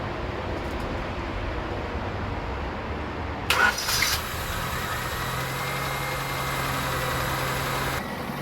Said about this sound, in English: so she fired right up